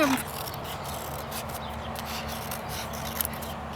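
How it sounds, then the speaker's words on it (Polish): Steady snipping and rasping of scissors cutting through a sheet of sketch pad paper, close and fairly loud over a low constant hum. "Wycinamy w tym celu kawałek, odcinamy bok kartki z bloku."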